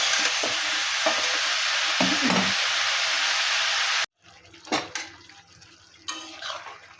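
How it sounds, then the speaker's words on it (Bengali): Spiced mixed vegetable and prawn curry being stirred in a pan: a dense close sizzle with soft scraping for several seconds, then it cuts away to quieter clinks and spoon scrapes against the pot. "সব মশলা দেওয়া কমপ্লিট, এখন নেড়ে চেড়ে একটু ঢেকে দেবো।"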